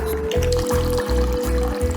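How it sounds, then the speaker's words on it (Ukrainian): Water pours steadily from a thermos dispenser after its top button is pressed, a close continuous gurgling stream with rhythmic pulses from the pump. "Ми на нього натискаємо вгорі ось ця кнопка, і буде литися вода."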